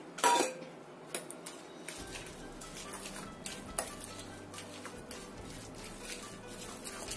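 Shallots, garlic and sliced spring onions being stirred through a mixture, with scattered light clinks and scrapes of a utensil against a bowl or pan, fairly quiet and irregular, no talking.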